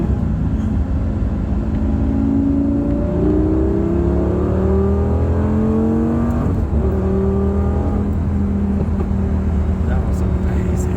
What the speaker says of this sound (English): You hear that F1 shifter?